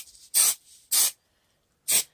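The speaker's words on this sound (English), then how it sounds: "I'm just going to spray it with some adhesive" Adhesive sprayed from an aerosol can onto Velcro pieces while building corner bass traps, heard as three separate short hissing bursts, each around a quarter second long, close by with quiet pauses between.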